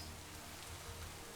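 Rain falls in the video game TerraFirmaGreg, a faint, steady patter of drops on surfaces forming a continuous soft wash.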